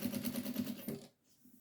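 A sewing machine stitches a hem on a baby bib, a quick even run of mechanical needle pulses for about a second before cutting off to near silence.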